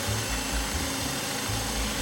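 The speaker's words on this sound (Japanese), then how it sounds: "ここでは大きなドリルを使っていますが" A large electric drill whirs steadily as it bores into wood for a wooden cup, a continuous mechanical drone with a low rumbling undertone.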